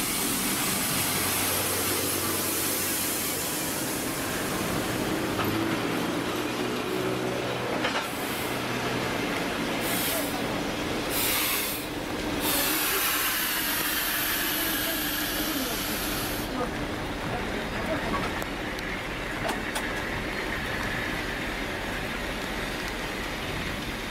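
A passenger train pulling into a station, a broad continuous rumble and hiss of rolling wagons with squealing brakes, loud and sustained throughout, with some voices faintly underneath.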